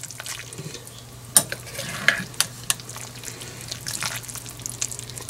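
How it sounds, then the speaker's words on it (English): A spoon gently stirs a bratwurst stew with vegetables in a pot, making soft scraping and clinking with a faint bubbling underneath and no talk. "Just want to gently stir this, trying not to break up all the vegetables"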